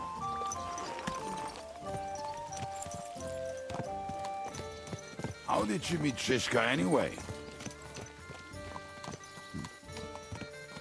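Horse hoofbeats from the medieval video game Kingdom Come: Deliverance, a steady clip-clop of riding under game dialogue, with a brief whinny-like swell in the middle and background music.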